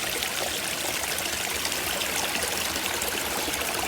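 Water rushes over rocks in a natural hillside stream, a dense, steady splashing close by with no pauses and no voices.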